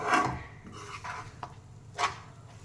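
Spatula stirring drumstick leaves and egg stir-fry in a pan: a few soft scraping strokes and light clinks against the metal, close and alone with no talk.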